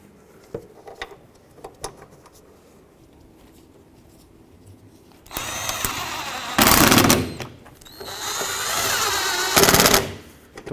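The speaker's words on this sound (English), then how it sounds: "now we can start in the bolts" A power drill drives bolts into the wiper transmission of a 1997-2003 Ford F-150, with two loud, close bursts of whirring after a few quiet clicks and handling noises.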